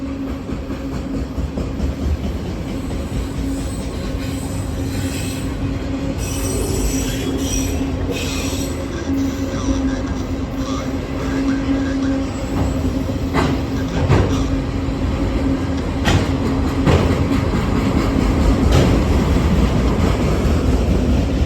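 A long CSX northbound freight train rolls steadily past up close, its wheels squealing loudly and continuously over a constant rumble of cars, with intermittent clicks and clanks along the rails.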